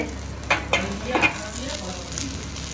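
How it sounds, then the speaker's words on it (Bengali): Prawns and kakuri frying in hot oil, a close continuous sizzle with a few sharp spatters and stirring clinks, no talking. "এখানে চিংড়ি মাছটা ভাজা চলছে"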